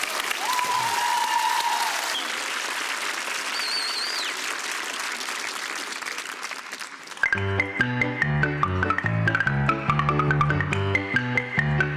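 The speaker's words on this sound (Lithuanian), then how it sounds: "Publika ploja, viskas puikiai." A talent-show audience applauding, first as a dense roar of clapping with whistles over it, then as music starts near the midpoint and the clapping continues beneath a rhythmic tune.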